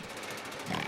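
Close, rough pig grunting fills a brief moment, a steady snuffling rasp that swells slightly near the end.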